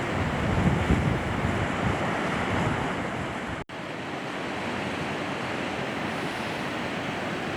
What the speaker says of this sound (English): give you an idea of how far this water was coming down the hill